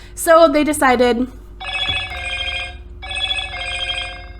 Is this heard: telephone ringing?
yes